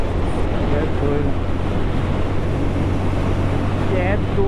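A waterfall near Botucatu sends out a steady, dense roar of rushing water that fills the whole stretch without a break, with faint voices partly buried in the noise.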